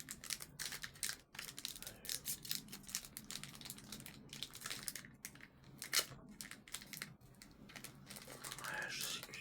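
A package is opened roughly by hand, with crinkling, tearing plastic and rustling packaging in dense bursts close by, while a voice talks softly at times.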